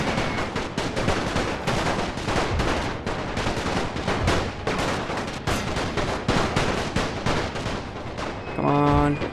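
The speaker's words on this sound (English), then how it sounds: "You guys are getting peppered by artillery. And gunfire." Dense, continuous artillery and gunfire in the video game The Great War, rapid bursts and heavy booming blasts throughout, loud and chaotic, with a brief electronic chime at the end.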